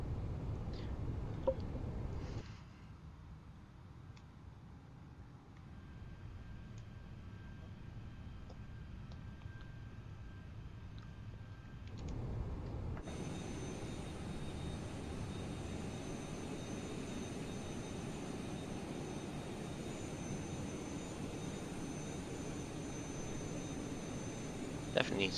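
An Airbus A380 comes in to land in Microsoft Flight Simulator 2020, heard as a replay: a steady broadband engine and air roar drones throughout and swells louder and brighter about halfway through, with speech faintly present.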